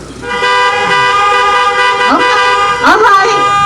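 Car horns at a drive-in event blare in sustained overlapping toots, loud and close, with a couple of brief louder honk bursts near the end and voices faintly in the mix.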